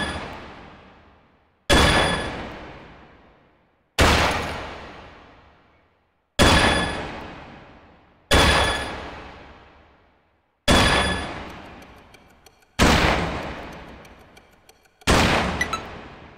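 Gunshots in a basic shooting video game fire as eight single loud blasts spaced about two seconds apart, each ringing out and decaying fully before the next, with no talk over them.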